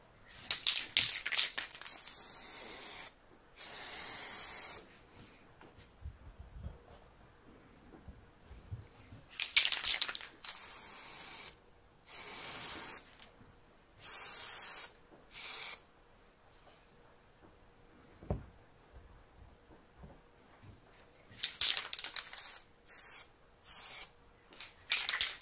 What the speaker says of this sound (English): the last part we're doing, which is spraying the inside.